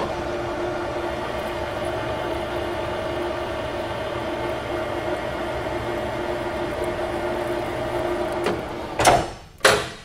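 A metal lathe takes a screw-cutting pass with cutting compound in a training workshop, giving a steady, even machine hum for about eight seconds that then cuts off and is followed by a couple of close, sharp knocks.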